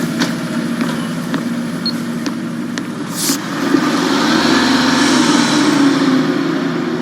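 A bus engine runs with a steady, low rumbling drone that grows slightly louder and fuller partway through, with no talking.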